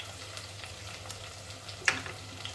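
Spring onion and tinned pilchards are stirred in a frying pan over a soft steady sizzle, with light scraping strokes and one sharp clink of utensil on pan.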